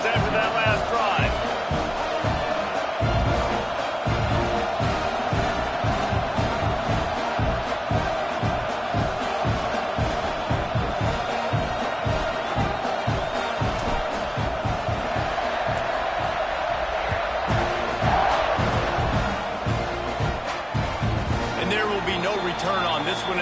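Stadium crowd in the College Football 26 video game cheers steadily through a kickoff, a dense continuous roar with rhythmic thumps and bursts, loud throughout with commentary voices mixed in.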